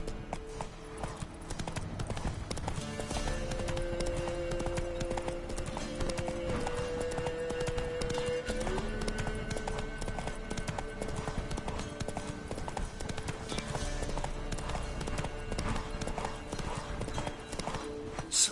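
Roach, Geralt's horse in The Witcher video game, trots with a steady, even clip-clop of hooves under a bed of game music and ambience throughout.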